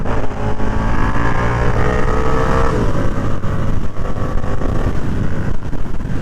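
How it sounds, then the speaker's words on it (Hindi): A 1290 motorcycle accelerates hard in sport mode on a road, its engine note climbing loud and close before a shift, then droning on with heavy wind rush across the microphone. "चलो थोड़ा सा भगा के देखते हैं स्पोर्ट्स मोड में क्या जलवा दिखाती है ये बाइक"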